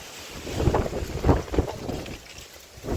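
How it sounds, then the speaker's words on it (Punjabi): Strong wind of about 80 km/h in Gurdaspur, Punjab, roars and buffets the microphone in gusts, a loud rumbling rush with no voices. "ਬਹੁਤ ਤੇਜ਼ ਹਵਾ"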